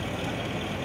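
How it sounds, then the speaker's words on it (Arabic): A tow truck's engine idles with a steady low rumble, moderately loud and continuous, with no voices over it. "وصول شاحنة خاصة لكي تكلف برفع هذه السيارات"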